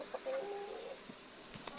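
Tiger-breed chickens in a poultry farm flock give a few short, tonal clucks and calls in quick succession against a quiet background.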